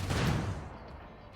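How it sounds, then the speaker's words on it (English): Gunfire in the video game RimWorld, a short burst of blasts that fades away quickly and stands alone with no talk. "this is a lot of gunfire to be able to defend from"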